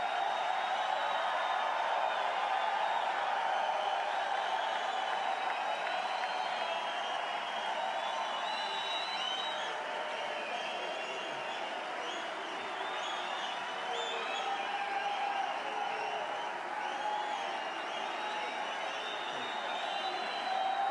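Sustained crowd cheering and applause for Larry Bird at his Basketball Hall of Fame enshrinement, a long, steady wall of clapping and voices from a large audience.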